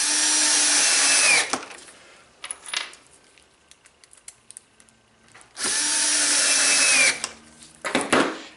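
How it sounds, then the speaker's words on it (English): Two sustained, close bursts from a power drill drive pocket screws into wood, each about one and a half seconds long, with clicks and handling noise between them. "then drive your pocket screws"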